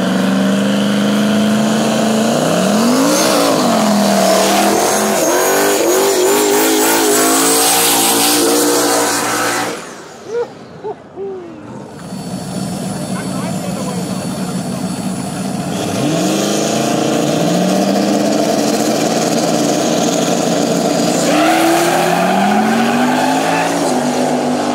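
Turbocharged LS-powered Fox Body Mustangs drag race on a no-prep strip, engines screaming loud as they rev and shift in rising sweeps, dropping away briefly, then roaring back with repeated pitch climbs.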